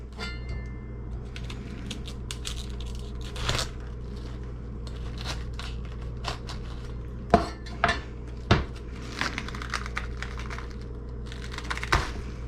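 A knife taps and crunches through red cabbage on a cutting board, scattered sharp clicks and thuds over a steady low kitchen hum, close and fairly quiet, with no speech.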